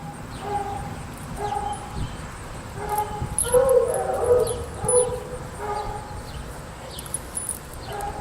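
A coonhound barks and whimpers close by in repeated short, uneven bursts, with some yelping, whining tones and a few faint background sounds in between.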